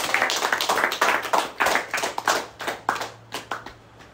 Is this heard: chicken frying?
no